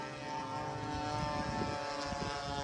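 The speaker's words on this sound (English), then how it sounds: "Oh, there go Wally's plane." A propeller airplane at the Bomber Field 2023 air show drones past with a steady, harmonic engine buzz at moderate distance, swelling slightly as it goes by.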